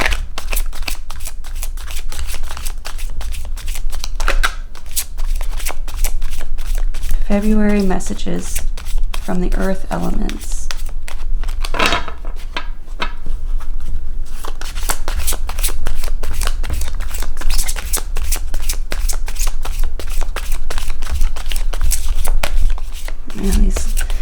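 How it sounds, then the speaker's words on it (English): Tarot cards are shuffled over and over in rapid riffling bursts, close and loud, while a person talks briefly over the shuffling. "we'll do one more shuffle and then I'll pick one"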